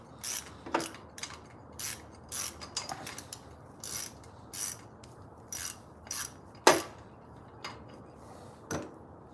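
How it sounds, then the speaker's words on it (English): A ratchet wrench with a socket turns a bolt in a series of short, evenly spaced clicking bursts, about a dozen over several seconds, close and clear with no talking. "You need to go with the wrench all the way with the socket."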